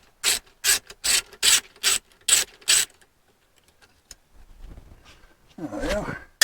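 A 1/4 inch ratchet clicks in seven quick, evenly spaced bursts while backing out sheet metal screws under a 1965 Chevrolet C20 pickup, then falls quiet before a short rubbing scrape and a voice at the end.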